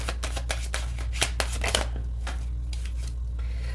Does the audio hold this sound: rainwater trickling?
no